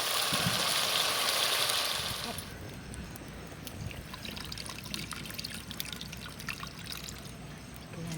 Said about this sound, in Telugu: చింతపండు రసం అయితే పోసేసారు ఫుల్గా